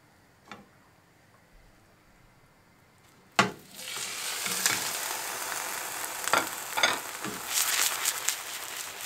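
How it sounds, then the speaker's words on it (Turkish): An oat and egg omelette fries in oil in a pan. A few quiet taps come first, then a sudden clack, and after it a loud, steady sizzle continues to the end with occasional sharper crackles. "Diğer tarafı da kızarana kadar pişirelim."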